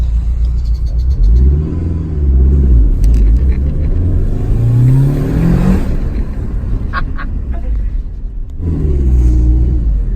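A Mitsubishi Lancer Evolution IV accelerates hard on the road. The engine rumbles loud and close, and its pitch climbs steadily through the rev range, drops, and then builds again.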